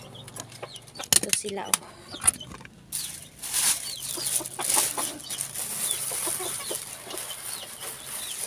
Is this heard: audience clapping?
no